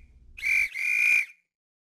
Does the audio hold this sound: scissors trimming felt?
no